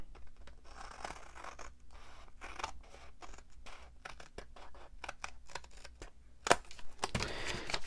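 Scissors snip through paper for a craft journal page, a run of soft close crisp cuts and rustles in an irregular rhythm, louder scraping near the end.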